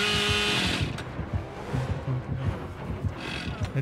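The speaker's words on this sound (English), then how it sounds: "He's using the chainsaw." A chainsaw revving in the video game Dead by Daylight: a harsh buzzing rev at the start drops off, then a gritty growling engine rattle continues underneath, with a second rising rev near the end.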